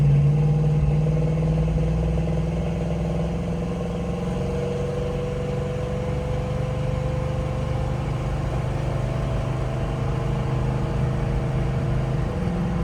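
The V8 engine of a rare 1970 Dodge Challenger R/T convertible under load, a loud, deep, steady engine drone that holds its pitch with a slight rise, heard close without voices.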